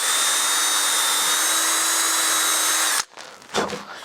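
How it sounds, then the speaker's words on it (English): A drill bit bores into a part of a Piper Archer model airplane build, a steady loud whine for about three seconds before it stops, followed by short handling noises. "I just use the right size drill bit"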